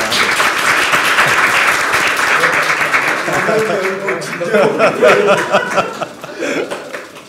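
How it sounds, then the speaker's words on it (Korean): An audience at a Gyeonggi Province public event on data dividends claps in thanks, a dense steady applause that carries through with some chuckling and laughter mixed in, and voices talking underneath as it tapers off. "저희가 특별히 감사의 박수를 한번 칠 필요가 있어요"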